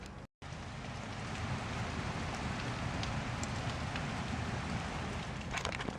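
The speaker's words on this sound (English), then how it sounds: "I love the sound of rain." Steady, dense rain falls outdoors, a continuous broadband hiss with scattered drop patters on surfaces. After a brief silent gap at the start it holds loud and even throughout, with no voices.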